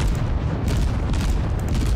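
Cleveland cruiser guns rapidly firing shells in World of Warships, a dense, unbroken low booming rumble of overlapping salvos, loud and close, with no voices.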